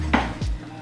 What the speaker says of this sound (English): we're gonna cut the tails off like that, the little roots off